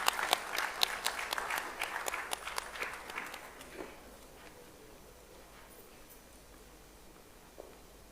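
An audience at a formal gathering applauds for the Governor of Odisha, a burst of hall clapping that fades after about four seconds into a quiet room with a faint tap near the end.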